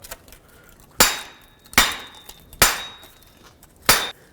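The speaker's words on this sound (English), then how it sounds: "I'm just going to try and hold it and hammer it out." Four sharp metallic hammer blows at uneven intervals, each ringing briefly before fading, close by with no talking, driving out a rear wheel hub and bearing on a 2001-2007 Toyota Highlander.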